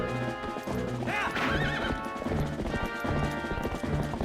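A horse in the video game Zelda: Twilight Princess gives a loud, rising and falling whinny amid steady clip-clopping hooves and game background sound.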